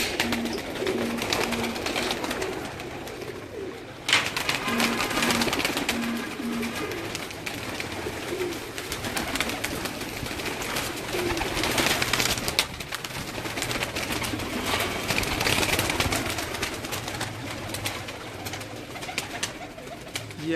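Breeder pigeons cooing in a loft, a steady stream of soft, throaty coos and rustling bird calls at close range, continuing throughout with some background noise.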